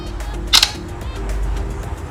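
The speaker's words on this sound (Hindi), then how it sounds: "तो चलिए हम एक फ़ोटो यहाँ पे भी क्लिक करके देख लेते हैं।" An Infinix Hot 8 smartphone camera fires a single short shutter click while taking a photo, close and clear over a low steady indoor hum.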